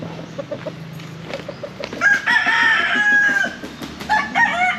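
Chickens in a rural yard by a bamboo house cluck in short repeated notes, then a rooster crows loudly and close by with a long drawn-out call, followed by more clucking and crowing.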